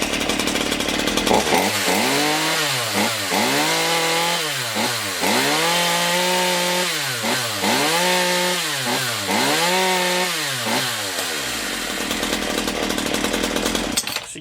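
A new Black and Decker 42cc chainsaw with a catted muffler runs loud and close, its engine revving up and down in about six rhythmic surges before settling back to idle.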